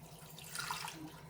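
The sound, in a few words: pouring water into a pot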